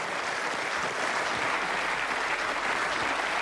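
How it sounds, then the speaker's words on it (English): Loud, steady applause from a start-up show audience, dense and continuous clapping filling the whole stretch without pause. "That's your applause."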